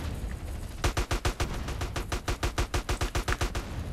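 Rapid gunfire in GTA San Andreas, a run of about twenty sharp, evenly spaced shots that starts after a short quiet lead-in and fires loud and close.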